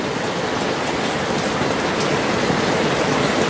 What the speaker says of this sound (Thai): ฝนตกหนักด้วย